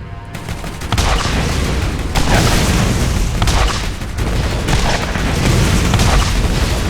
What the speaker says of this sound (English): Always in video games, slow, inaccurate rockets